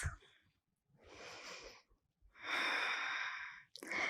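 Slow, deep breaths drawn in and let out through the nose during a one-legged bridge yoga pose, each breath long and close, with short quiet gaps between them.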